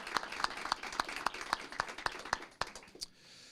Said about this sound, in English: If we could give one more big round of applause for Karina and the Student of the Month prog